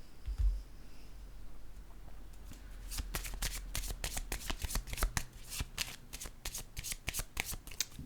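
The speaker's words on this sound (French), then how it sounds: "Je vais piger une autre carte ici." A deck of tarot cards is shuffled and drawn in a series of crisp, rapid flicking riffles, close and clear, that build after a soft start and continue steadily with no talking.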